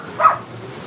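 A single short, sharp yap from a puppy, close and clear over quiet background.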